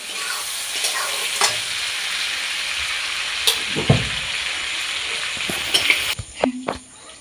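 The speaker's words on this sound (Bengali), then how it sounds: "এইভাবে চিংড়ি মাছগুলো ভেজে নেবেন" Shrimp frying in a pan for a Bengali mocha chingri ghonto, a steady close sizzle with scattered stirring scrapes and clinks, ending in a few louder knocks.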